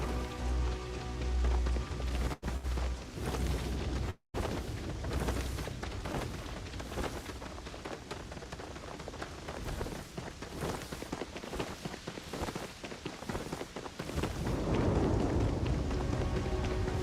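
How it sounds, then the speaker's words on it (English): Heavy rain pours steadily in a cozy farming video game, a dense, hissing downpour patter with occasional louder thumps and footstep-like taps throughout, no voices. "And a rainstorm, apparently."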